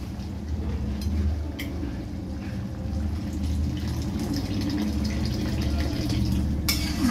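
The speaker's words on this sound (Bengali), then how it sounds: "এবার ডালে যেটুকু জল লাগবে আমি সেটা দিয়ে দেবো।" Water pours steadily into a pot of moong dal cooked with a fish head, a continuous low gushing fill with a few faint clinks, close and uninterrupted.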